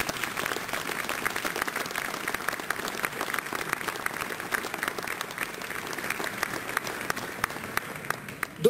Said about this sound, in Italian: vi prego un applauso